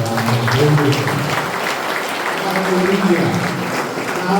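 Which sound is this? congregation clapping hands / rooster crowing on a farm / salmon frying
congregation clapping hands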